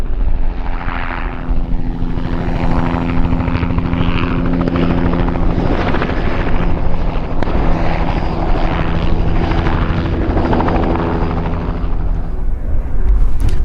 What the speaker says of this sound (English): here come the helicopter